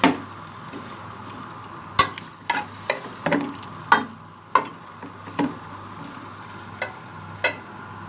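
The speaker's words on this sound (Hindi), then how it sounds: "ये हमने शलजम डाल दी हैं। अब इनको हम मिक्स करेंगे।" Turnips are stirred into a spinach and mutton curry in a pot, giving a series of sharp, irregular spoon clacks against the pot over a low, faint simmer, with no talking.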